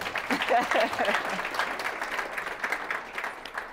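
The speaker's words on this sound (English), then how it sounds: "Can you have a round of applause, please?" An audience at a fireside chat event applauds, a dense round of clapping that starts strong and slowly thins over a few seconds, with faint voices mixed in.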